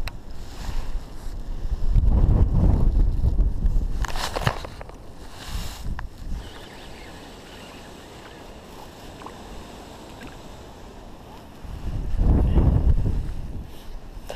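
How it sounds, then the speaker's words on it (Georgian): Wind gusting across open water during a fishing outing, with two loud, rumbling buffeting bursts near the start and again near the end, separated by a quieter stretch of steady breeze and microphone wind noise. "ქარი ყლაპიაზია, ქარიანი ამინდია"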